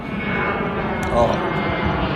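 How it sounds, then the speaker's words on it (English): An airplane flies overhead as a steady, loud engine roar that swells slightly in the middle, while a voice talks faintly beneath it. "Let this plane go by."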